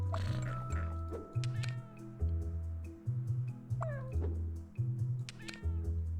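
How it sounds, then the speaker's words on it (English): A vocal, expressive cat meows repeatedly in a rhythmic series of drawn-out, wavering calls, loud and close, over a steady low hum, with a few sharp clicks between the calls. "a vocal expressive cat"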